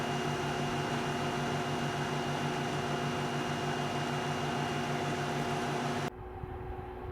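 A 5000 BTU air conditioner running on solar power on a hot, cloudy day hums steadily with a constant fan whir, then cuts down abruptly near the end to a lower, quieter rumble.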